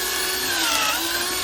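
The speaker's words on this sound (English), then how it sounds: "start drilling and then pull out to clean out" A power drill bores into wood while building a quail or chicken tractor, giving a steady, loud whine with a sustained motor tone that holds on its own for about a second and a half.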